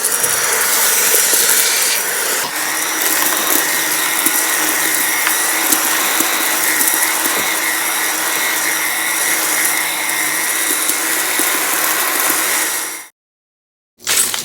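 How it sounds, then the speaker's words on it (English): An Orfeld cordless vacuum sucks up crumbled Cheez-Its in a loud, steady motor whine and rushing hiss, with faint rattles of crumbs being drawn in, before it cuts off abruptly near the end and briefly restarts. "So we're going to see how well this cleans up this mess."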